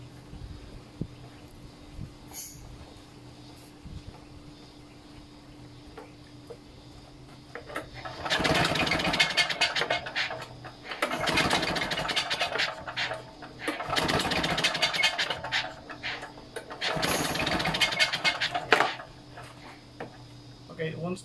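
A Victa two-stroke lawn mower that will not start is cranked in three or four loud pull bursts, each a short rattling rush that dies away, separated by quiet gaps.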